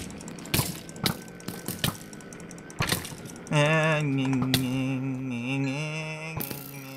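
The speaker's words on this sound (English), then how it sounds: "He's knocked me into the water." A player splashing into water in the video game Minecraft: several sharp clicks and splashes, then a sustained watery, bubbling tone with shifting pitch and a final splash, no talking heard.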